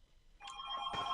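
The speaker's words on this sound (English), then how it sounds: "Excuse my grandma phone ringing." An electronic telephone ringing in a home, a steady warbling ring that starts partway through and grows louder, with no talk over it.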